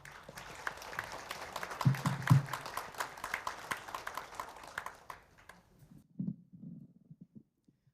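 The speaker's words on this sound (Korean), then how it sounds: "박수 부탁드리겠습니다." Audience applause at a Seoul doctors' day commemorative ceremony, a steady patter of many hands clapping that rises briefly, then fades out and gives way to a few faint sounds near the end.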